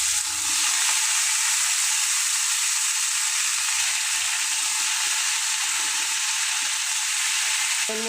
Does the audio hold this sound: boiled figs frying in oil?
yes